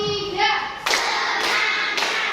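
Children in an Indonesian classroom clap together in counted sequence: a voice speaks first, then three sharp, unified claps land roughly a second apart, each a bright, close burst.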